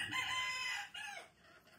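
A hen settling down to lay eggs among free-range desi chickens gives a short, faint, raspy clucking call that dips and then rises once more before fading.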